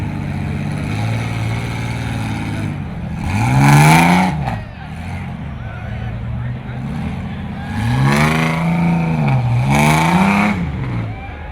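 A mud racing car on big 43-inch TSL Swamper tyres revs hard in two loud, rising surges with a lull between, close by and dominating the scene.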